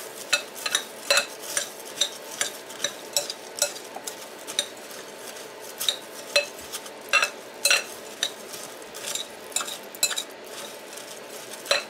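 A utensil scrapes steadily through a breadcrumb topping being coated in butter, making repeated short, fairly even clinks and scrapes against the dish for several seconds.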